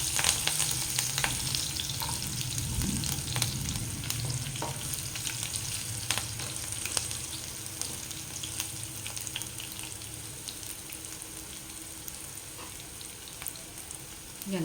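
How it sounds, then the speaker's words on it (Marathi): Green chillies splutter and sizzle steadily in hot oil in a pan while cooking sabudana khichdi, a close continuous crackle with occasional sharper pops and faint stirring, no voices. "यानंतर मिरची, पटकन उडते त्याच्यामुळे ना सांभाळून"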